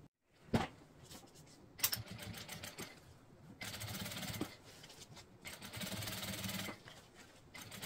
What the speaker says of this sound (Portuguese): vou aproveitar para fazer uma costura de pesponto em toda a volta.